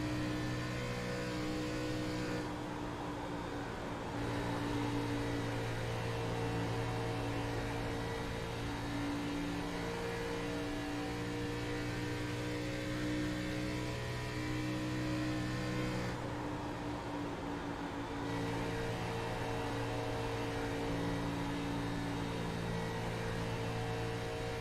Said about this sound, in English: We'll take you on board for a lap unless you listen to these race cars.